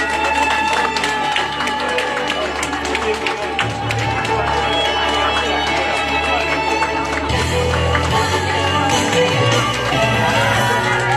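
An audience applauding at a park golf course opening ceremony in Yeonsan-myeon, Nonsan, South Korea, a sustained crowd clapping with some cheering and music, steady and fairly loud from start to finish.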